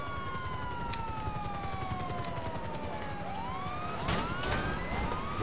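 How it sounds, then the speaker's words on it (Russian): A police car siren in the video game GTA V Online wails in long descending and rising sweeps over a constant background hum, growing busier with overlapping tones near the end. "Не включаются мигалки."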